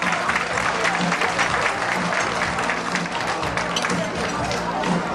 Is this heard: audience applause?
yes